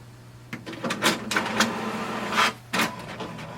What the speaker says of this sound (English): once it is done you can click on this icon and it will start printing